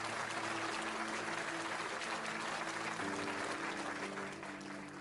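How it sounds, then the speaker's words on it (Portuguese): A church congregation applauds during a service, dense sustained clapping from many hands that fills the room, fairly loud and even throughout, with a faint voice and tones underneath. "Aplauda o Senhor e receba essa palavra em nome de Jesus"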